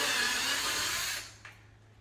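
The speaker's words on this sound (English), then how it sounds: "Now we can go ahead and we can drill all of our holes" A drill whirs steadily while boring holes into a 6th-generation Camaro to mount front canards, a loud, close, continuous high hiss that cuts off abruptly partway through, followed by a faint brief tick.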